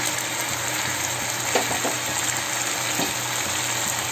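Kadai chicken with kasuri methi leaves sautéing in a wok, a steady broadband sizzle with a few soft stirring scrapes near the middle and end.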